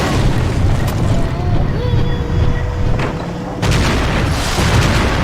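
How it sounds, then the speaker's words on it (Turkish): A loud, rumbling explosion in Max Payne 3 roars with dense crackling debris, dips briefly, then bursts again with a sharp renewed blast. "Çok güzel patladı lan."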